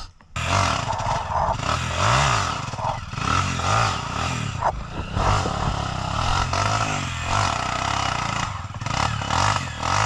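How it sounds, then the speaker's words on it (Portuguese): Dirt bike engine labouring and revving hard on a muddy trail, loud and close throughout, with continuous strained roar, rising and falling revs and some clattering. "É que tá trancando o motor embaixo."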